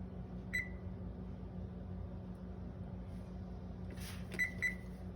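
A kitchen timer gives short, high electronic beeps while being reset during sourdough bread baking: one early beep, then a small cluster near the end, faint over a low steady room hum.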